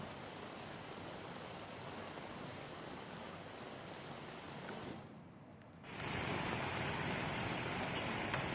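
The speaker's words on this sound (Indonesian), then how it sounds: "hujan deras juga mengguyur wilayah Jakarta Timur" Heavy rain pours down in East Jakarta, a steady dense hiss with a brief dip in intensity before it surges back louder, no voices.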